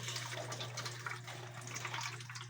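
Tap water running in a home kitchen while dishes are washed by hand: a steady, faint splashing flow with a low hum underneath, no talk.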